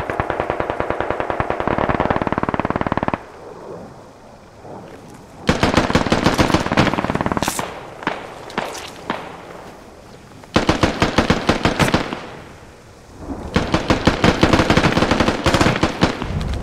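Heavy machine gun fire in the tactical shooter game Squad, loud rapid bursts that hammer for several seconds each, with quieter echoing gaps between them.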